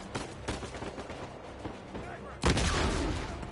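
Gunfire in the video game Uncharted 4 crackles through a rough, noisy stretch before one loud, close shot bursts in and rings on to the end.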